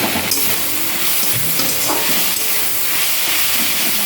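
Green chillies, sugar and vegetables for a vegetarian dish sizzle and fry in a pan, a steady close hiss with faint scraping of stirring and no talk.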